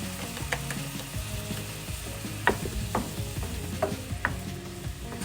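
Heavy cream being stirred over low heat in a pan while making pesto ham pasta, a soft continuous scraping and light sizzle with a few sharper clicks of the utensil against the pan, close by and steady throughout.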